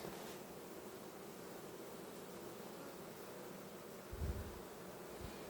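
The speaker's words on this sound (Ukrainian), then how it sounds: "І бджоли не дуже дружелюбні в руці." Honeybees buzzing steadily around an opened hive during an autumn inspection, a continuous low hum with a brief thump of movement near the end.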